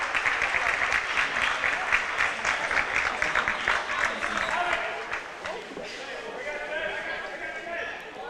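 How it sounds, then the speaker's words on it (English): A high school boys basketball crowd at Wabaunsee, Sacred Heart against Jackson Heights, gives a steady round of clapping that fades after a few seconds as a commentator talks over it. "Nice hand from the crowd here at Wabaunsee."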